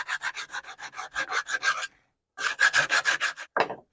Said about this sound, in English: so I'm going to take my sandpaper